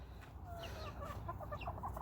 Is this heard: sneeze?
no